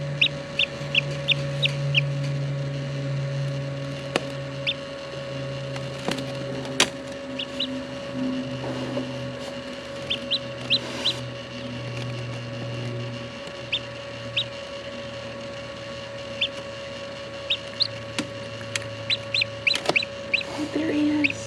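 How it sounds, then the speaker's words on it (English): Newly hatched baby chick chirping in short high peeps, scattered in quick bursts throughout, over a steady electrical hum from an incubator and occasional low background sounds. "His cute little chirps."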